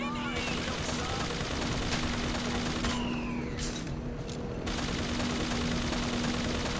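Rapid automatic gunfire from an allied fighter in the shooter game BioShock Infinite, steady bursts rattling over a constant game soundscape with a droning hum underneath.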